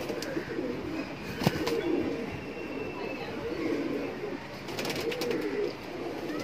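Big-size Kaldum pigeons coo in repeated soft, throaty rolls, several birds overlapping at moderate distance, over a steady background hum with a few brief clicks.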